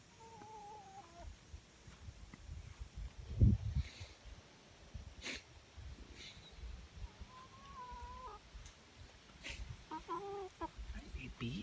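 Chickens cluck softly around a rooster in a backyard flock, scattered low clucks and a few short higher calls over faint background noise, with one louder thump partway through.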